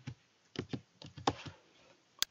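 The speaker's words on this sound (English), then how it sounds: "Here you need to type in your first name" A name being typed on a computer keyboard during account sign-up: a run of about seven crisp, close key taps at an uneven pace, then a final sharper click after a short pause.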